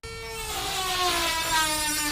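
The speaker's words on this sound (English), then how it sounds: "Alex is cutting that thing off with his cordless Dremel" A cordless Dremel rotary tool cuts into a fitting inside a van, producing a close, steady high-pitched whir whose pitch drifts slightly downward under load across the whole stretch.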